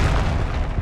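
A Confringo spell explosion in the Hogwarts Legacy video game, one short, dense, loud blast that fills the moment and fades quickly.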